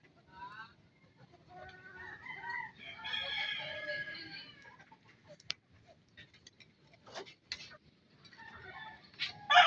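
Backyard chickens, a flock recently attacked by a neighbour's dog, cluck and crow in bursts over a faint low rustle, with one louder rooster-like call in the middle and sharp clicks near the end.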